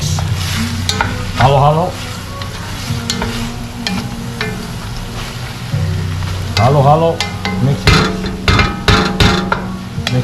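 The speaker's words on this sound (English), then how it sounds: "let that brown until like there's no longer pink" Chicken leg quarters, about two pounds, browning in a pan for tinola soup: loud steady sizzling with repeated stirring and scraping clatter, a couple of brief squeaky sounds, no voice.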